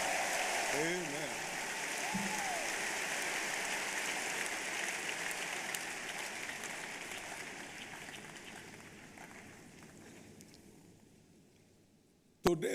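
A church congregation at a service applauds in a dense, sustained wash of clapping that slowly fades over about ten seconds, then ends with a sharp thump. Brief tonal voice fragments surface near the start.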